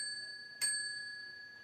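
A single quick ding of a small bell, faint and brief, ringing over a steady high tonal hum in an otherwise quiet room.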